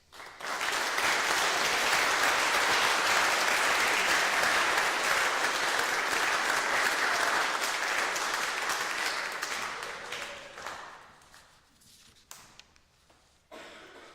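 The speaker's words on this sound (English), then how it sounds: "I'd like to give a round of applause to all certification presenters." An audience breaks into sustained, loud applause that holds for about ten seconds before tapering off into scattered claps and quiet.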